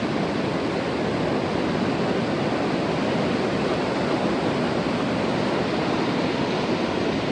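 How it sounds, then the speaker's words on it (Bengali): The waterfall at Natural Bridge in Yoho National Park roars as a steady, dense, loud rush of falling water, unbroken and with no voices. "ন্যাশনাল ব্রিজের যে ওয়াটারফলসটা আছে একদম সামনে চলে এসেছি"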